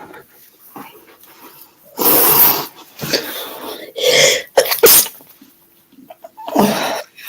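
A few short, sharp bursts of a person sneezing, with a brief pause between each, close by and loud, with faint background noise.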